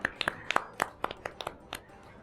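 Scattered hand claps from a small studio audience at an Eid celebration television show as a young qawwali singer is introduced: about a dozen separate, fairly close claps spread unevenly across a couple of seconds, quiet overall.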